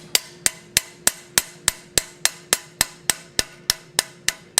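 Sharp metallic strikes from the peen of an 8-ounce hammer on metal being forged ring out in a steady, even rhythm, about three blows per second, close and crisp.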